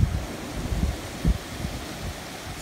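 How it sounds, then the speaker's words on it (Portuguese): Strong wind ahead of heavy rain in northeastern Brazil buffets and roars in low rumbling gusts, close and continuous, with no voices. "Uma ventania."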